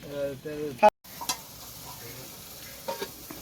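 Duck meat stirred in a frying pan for a village winter picnic, spoon scraping through sizzling oil in short strokes, with a brief voice near the start and a sharp clack partway through.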